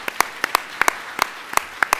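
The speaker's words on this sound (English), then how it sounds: "I want to give them a little applause here" Scattered, sparse claps from a small audience at a Secretary of State candidate forum at Berkeley: about a dozen sharp, separate hand claps over two seconds, moderately quiet and thin rather than a full ovation.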